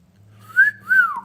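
Someone whistles two rising-and-falling notes toward a pet bird, clear and close, with a low hum running underneath.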